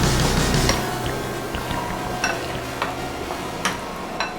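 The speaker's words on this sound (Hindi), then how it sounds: "ये अदरक लहसुन जो मैंने डाला था, ये देखें भुनाव पर आना शुरू हो गया है" Ginger garlic paste frying in a pan for moong dal mangochi, a low steady sizzle with soft clinks and scrapes of stirring scattered through, close and continuous.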